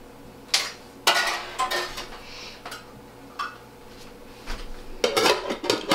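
A Cuisinart pot and its lid clank and rattle in a kitchen while spinach soup cooks, with several sharp metallic knocks and scrapes spaced irregularly, close and fairly loud.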